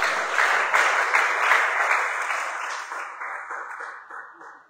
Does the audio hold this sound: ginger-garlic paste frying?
no